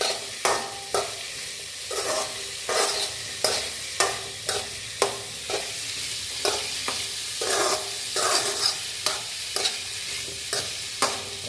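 Tomato and bitter gourd fry in a pan, a constant sizzle broken by regular scraping strokes of a spoon stirring them, close and fairly loud with no talking.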